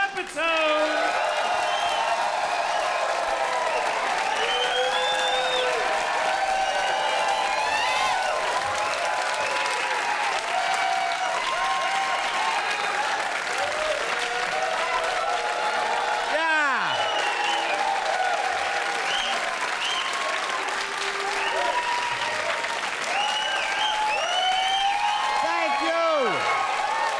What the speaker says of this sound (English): put your hands together for the bitter Buddha, Eddie Pepitone